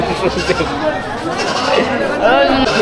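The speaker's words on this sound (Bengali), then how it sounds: "এই ছাগলটা দেখেন" A goat bleats several times among the crowd at a busy rural goat market, with people talking and chattering nearby throughout.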